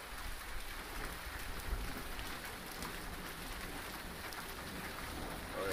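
Heavy rain pours down during an Arizona lightning storm, a dense steady roar of drops hitting surfaces close by, continuous and fairly loud throughout.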